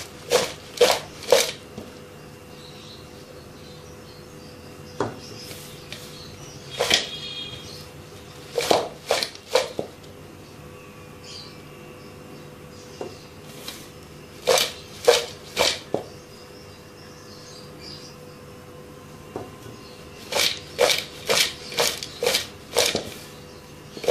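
Spicy French fries tossed by hand with sprinkled chaat masala and lemon juice, making repeated bursts of crisp rustling and shuffling close up, separated by short quiet pauses.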